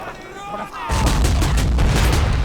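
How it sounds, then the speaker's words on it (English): Bombs explode in a Napoleonic war video game set at the Battle of Borodino: a sudden heavy blast, then a loud sustained rumble of booms and crackling gunfire, with a voice briefly heard before the explosion. "They're throwing bombs in and everything."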